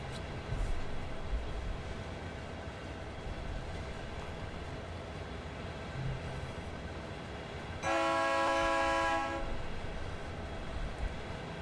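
A GP38-2 diesel locomotive in Train Sim World 2 on the Horseshoe Curve route rumbles steadily throughout, and its horn blasts once for about a second and a half partway through, sounding loud and close.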